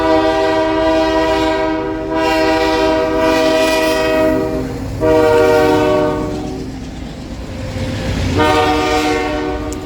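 A loud, sustained train horn blares over the rumble of a passing freight train led by a Canadian Pacific AC44 locomotive in Elkhart, swelling and dipping in several long blasts.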